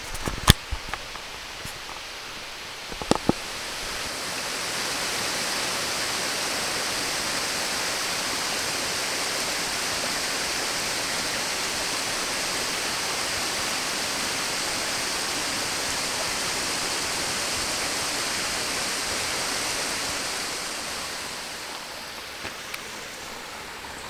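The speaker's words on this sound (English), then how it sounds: "approaching the main waterfall at the very top of the ridge. This is the highest cascade of the entire run" Crabtree Falls in Nelson County, Virginia, pours over a high cascade near the top of a mountain ridge in a broad, steady rushing roar. A few faint footsteps or knocks come at the start and end.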